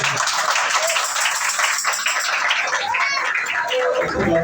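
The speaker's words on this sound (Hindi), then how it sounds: "आइए उसके जलाल के लिए जोरदार ताली" Steady, dense clapping from a large crowd, loud and continuous throughout without pause.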